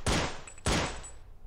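Two loud, close bursts of gunfire in the zombie shooter game Zombie Age 3, each a sharp crack trailing off in a short rattling decay, with no talk.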